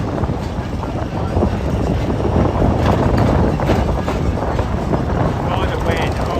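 Gusty wind roars steadily across the microphone at Magic Kingdom park, a loud, constant rushing noise that fills the whole stretch without letup.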